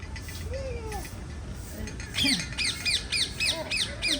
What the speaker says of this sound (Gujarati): કાગડો બોલ્યો યાર